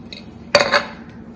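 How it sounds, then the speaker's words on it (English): A metal spoon scraping and clinking against a pot while ghee is stirred into khichdi, one sharp clink followed by a brief scrape, close and clear in a quiet kitchen. "Now उसके ऊपर एक चम्मच घी डाल दीजिए और मिक्स करिए."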